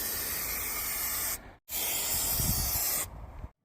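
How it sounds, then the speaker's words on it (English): High-temperature spray glue is sprayed onto the cab headlining of a campervan in two long, close, steady hissing bursts separated by a brief pause, with no talking. "High temperature spray glue."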